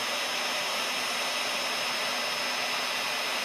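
A heat tool blows steadily on embossing powder, melting it to a gloss over a stamped flower; a continuous, even airy whoosh with a faint whine, alone and unbroken throughout.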